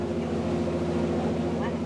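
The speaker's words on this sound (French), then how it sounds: "le plus loin possible du bruit infernal du moteur" A riverboat's engine on an Amazon tributary in Brazil drones with a loud, steady low hum and constant throbbing, as a continuous mechanical rumble with no pauses.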